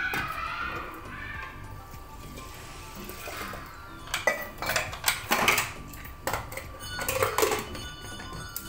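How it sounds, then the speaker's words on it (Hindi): Breakfast dishes, pots and cutlery clatter and clink in a home kitchen sink as they are washed, with irregular bursts of metallic knocks over running water, close and fairly loud. "तब तक मैं बर्तन धो लूँगी जो नाश्ता के बर्तन पड़े हुए हैं।"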